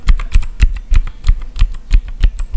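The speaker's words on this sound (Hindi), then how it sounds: "ब्लू स्विचेस सबसे ज़्यादा क्लिकी स्विचेस होते हैं। जो ये आवाज़ आप सुने ज़रा" Typing on a mechanical keyboard with clicky blue switches, a close, loud run of sharp clacking keystrokes at a quick, slightly uneven rhythm with no talking.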